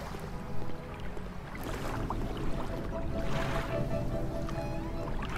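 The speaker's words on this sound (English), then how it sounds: "I hear waves." Ocean waves wash and churn continuously around a sinking ship in the video game Fall of the Titanic, a dense, steady surf rumble with occasional swells, fairly near.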